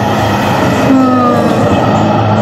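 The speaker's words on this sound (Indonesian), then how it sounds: "Kawasan saya sini banyak kereta lah, bunyi-bunyian kereta." Loud traffic rumble from heavy vehicles passing close by, with a brief tonal whine sliding through the middle.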